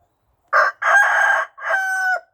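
A rooster crows close by, loud and clear: a short opening note, then a long drawn-out middle and a final held call, with silence before and after.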